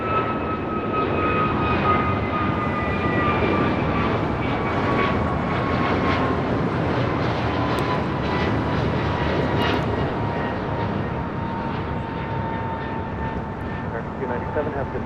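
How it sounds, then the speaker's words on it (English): An American Airlines Airbus A321neo bound for Honolulu takes off from LAX with a loud continuous engine roar. A high tone slowly falls as the jet climbs away, and a voice talks faintly under it. "That was American Airlines 297 taking off to Honolulu on an A321neo"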